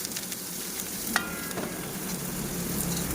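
Bitter gourd frying in a pan with onion and mustard seeds, a steady close sizzle with occasional stirring scrapes and small pops throughout.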